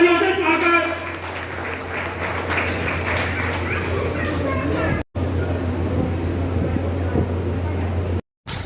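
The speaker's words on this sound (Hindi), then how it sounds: "डॉक्टर कविता जी का जोरदार तालियों से स्वागत।" Loud, dense applause from a crowd at a BJP-organised health camp run by Ganga Sahay Hospital, welcoming Dr. Kavita, continuous for several seconds under a steady low hum, with voices mixed in and two brief dropouts.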